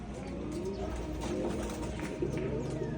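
Racing pigeons back at the loft after a race, cooing steadily close by in soft repeated calls, with faint talk in the background.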